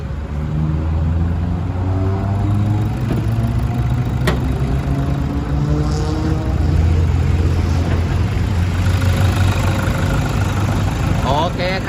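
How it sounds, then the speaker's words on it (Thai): A 2008 Toyota Hilux Vigo double cab with a 3.0 litre diesel engine idles nearby in a steady low rumble, with someone talking over the engine noise. "สตาร์ทเครื่องด้วยเลยนะครับผม จะได้ฟังเสียงเครื่องนะครับ"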